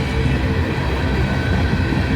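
Loud, close rumble and rattle of freight cars rolling steadily past on the rails at Abbeville, with no talking.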